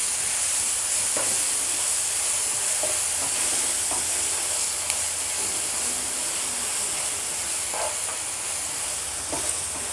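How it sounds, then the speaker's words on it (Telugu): Mango rice seasoning frying in a pan on a low flame, a steady soft sizzle and hiss with occasional faint stirring scrapes, close and continuous. "సిమ్లో పెట్టి ఫ్రై చేయండి."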